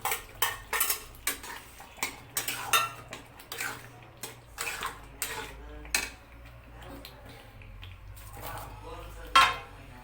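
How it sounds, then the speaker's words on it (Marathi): Paneer goes into palak bhaji cooking in a pan, with a spoon clattering, scraping and tapping against the metal in irregular bursts, loud and close, followed by quieter stirring. "ही पनीर याच्यामध्ये घालून घेते मी आता।"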